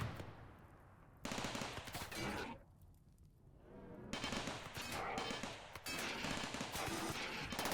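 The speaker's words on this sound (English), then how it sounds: "at least they're coming in here so that all the turrets can shoot at them" Turrets firing at mechanoids in the RimWorld video game, rapid bursts of automatic gunfire in several loud volleys separated by brief quiet gaps.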